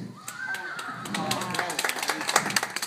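An audience at a horsemanship show claps for a horse, a scattered patter that builds into fuller applause over a few seconds, with faint talking underneath.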